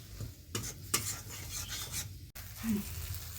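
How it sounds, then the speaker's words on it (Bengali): Spices sauté in a pan, with scraping stirs and rubbing strokes over a light sizzle, heard close up in several bursts with a brief pause partway through. "দিয়ে সুন্দর করে এটা মশলাটা কষিয়ে নেবো আমি"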